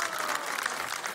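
Brief burst of audience applause in a television studio for a singer, dense steady clapping over a short moment.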